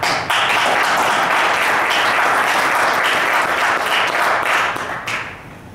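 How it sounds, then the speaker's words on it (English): Conference audience at a summit closing bursts into loud, sustained applause that starts abruptly and holds steady before tapering off at the end. "Yes, thank you for your applause"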